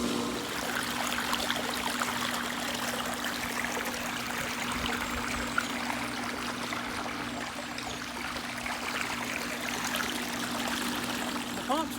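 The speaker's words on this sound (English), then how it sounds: "It's pulling the water out of the pool." Steady rushing and trickling of water as a pool pump pulls water from an above-ground Intex pool, with a low constant hum beneath, continuous and fairly close, no voices.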